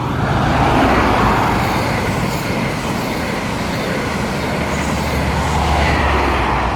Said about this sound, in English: now passing through, we're going to have a HST